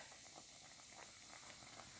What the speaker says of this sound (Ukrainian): А тут уже кипить на всю катушку.